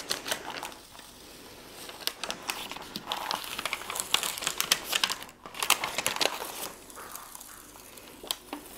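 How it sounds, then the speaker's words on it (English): A vinyl stencil is peeled slowly off a cutting mat, giving a close, quiet run of crinkly crackles and small sticky snaps that come in uneven bursts with brief pauses. "We now need to carefully peel off the stencil from the cutting mat."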